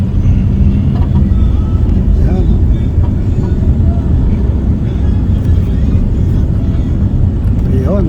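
Jeepneys and other traffic rumble along a busy street beside an old building, a steady loud low engine drone with passing vehicles throughout and brief voices mixed in.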